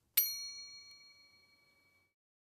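A single bright notification bell ding, struck once cleanly and ringing out with a metallic shimmer that fades away over about two seconds, alone in silence.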